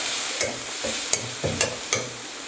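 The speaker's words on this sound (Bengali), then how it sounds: "একটু ভাজা ভাজা করবো।" Mixed leafy greens stir-frying in a pan, a close sizzle broken by about five sharp, regular spatula scrapes and stirs against the pan, with no talking.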